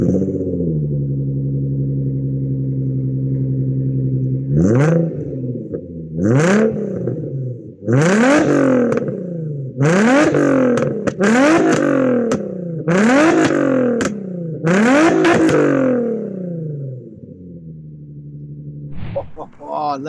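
A Nissan 350Z convertible's 3.5 litre V6 with aftermarket exhaust settles into a steady idle, then gets blipped through a string of sharp rising revs, each snapping back down, before returning to idle; loud, close and free of talk.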